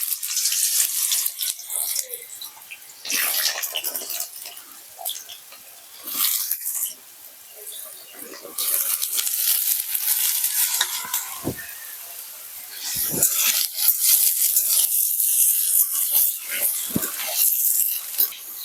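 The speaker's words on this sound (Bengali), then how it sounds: "তেল গরম হয়ে গেছে, এবার আমি ধুয়ে রাখা বেগুনগুলো দিয়ে দেবো ভাজার জন্য।" Washed eggplant pieces for Bengali neem-begun frying in hot oil in a wok, a steady broadband sizzle with bursts of crackle and spatter rising and easing across the stretch, fairly close and continuous.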